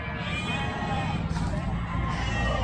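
Goats bleating at the Durenan goat market in Trenggalek, where fat Javanese Randu bucks are sold; calls rise from a dense, noisy crowd din that runs steadily through the whole stretch.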